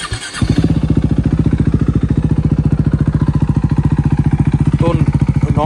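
A KTM RC 390 motorcycle engine idles close by with a steady, rapid low thump, loud and continuous after a brief start, with no talk over it.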